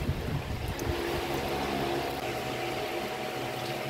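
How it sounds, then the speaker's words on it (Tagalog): Coolant pours into a newly installed radiator on a Ford Everest, a steady close bubbling, gurgling liquid rush with a low hum underneath, continuous for the whole stretch with no talking. "Ngayon nagpupuno na siya oh"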